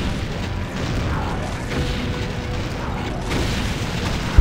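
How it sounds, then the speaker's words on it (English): Rumbling, booming explosions from the video game Doom played with the Brutal mod, a continuous dense low roar over several seconds with a sharp pop at the very end. "I love the explosions."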